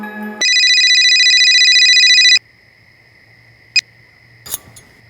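A telephone rings with a loud electronic tone held steadily for about two seconds before cutting off, followed by quiet room tone and a couple of brief clicks.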